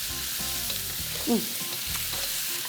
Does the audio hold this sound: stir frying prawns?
yes